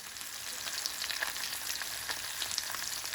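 Steady crackling sizzle of pork chops frying in a hot pan under a bacon press, close and continuous, with small pops scattered throughout and no voices.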